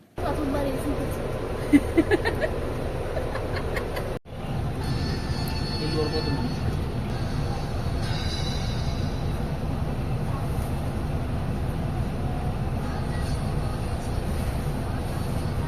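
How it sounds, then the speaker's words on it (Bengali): The Agartala–Rani Kamalapti Express rumbles steadily along after departing, with a continuous low roar, muffled voices and chatter mixed in throughout. "ফাইনালি আমাদের ট্রেন ছেড়ে দিল"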